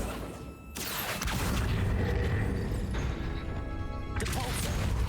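Accio summoning spell in Hogwarts Legacy, a wizarding video game: a sharp burst followed by a loud, sustained rushing whoosh with magical shimmer, ending in a second swell, all close and dense.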